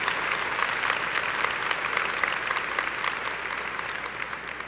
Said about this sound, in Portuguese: Aqui eu queria te convidar a dar uma forte salva de palmas para Jesus Cristo